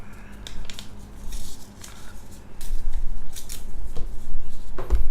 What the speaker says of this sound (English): What happens if I tear this paper into half?